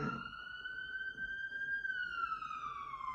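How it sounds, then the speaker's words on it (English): A steady electronic ambulance siren wail with a slowly rising then falling pitch, fairly loud over a low rumble of background noise, with no talking. "Yeah, it's the sound of the police."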